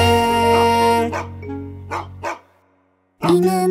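A few short barks sound close by, with sustained tonal sounds before and after them.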